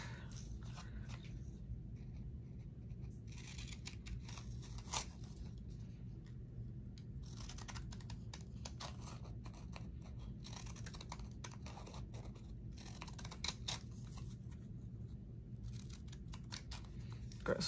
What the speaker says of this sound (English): My scissors are not the best.